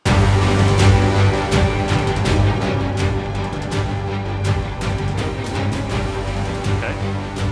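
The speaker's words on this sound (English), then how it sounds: "So, we have this battle track" A dense, driving video game battle music track plays loudly and continuously, with steady percussive hits over layered sustained tones.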